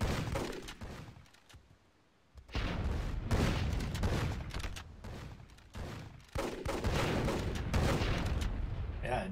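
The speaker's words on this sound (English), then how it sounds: "just manages to extricate himself there from that airstrike" An airstrike hits during a video game battle: heavy explosions and rattling gunfire pound almost nonstop, with a brief quieter lull early on before the barrage resumes.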